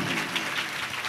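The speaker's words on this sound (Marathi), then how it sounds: "हरी एकदा आपण सर्वांनी जोरदार टाळ्या वाजवायच्या आहेत." Audience at a Marathi kirtan performance clapping loudly together, a dense, steady wash of applause filling the whole short moment with no voices over it.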